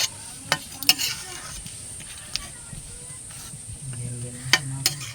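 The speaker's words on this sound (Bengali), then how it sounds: "একটু নেড়ে দিই।" A vegetable curry with added water is stirred in a pan, giving a low simmering sizzle broken by scattered sharp clacks and scrapes of the utensil against the pan.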